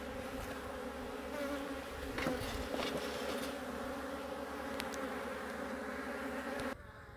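Honeybees buzz in a dense, steady drone at an open beehive during an inspection. The close, continuous hum holds nearly level until it drops suddenly at the end, with no speech.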